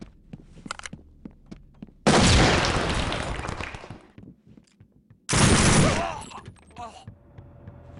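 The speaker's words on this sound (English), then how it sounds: "the suspects are erratic and shooting each other" Gunfire from the SWAT 4 video game erupts in two loud, sustained bursts over a faint ticking background, with brief quieter gaps between; a radio-style voice is heard among the sounds.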